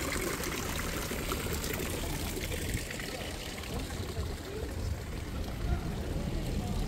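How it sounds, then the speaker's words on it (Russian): A fountain in Colmar, France, pouring and splashing steadily, a constant watery wash that fills the whole clip at a moderate distance, with faint voices in the background. "Вот такой красивый тут фонтан."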